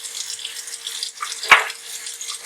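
Tap water runs steadily into a sink while a dental stone model is wetted before sanding with 220-grit waterproof sandpaper, a continuous close hiss with one brief louder splash partway through.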